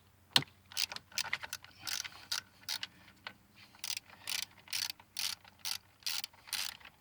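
A ratchet wrench loosens the coil pack bolts on a 2008 Nissan Versa engine, giving repeated close, crisp bursts of ratcheting clicks with short pauses between strokes.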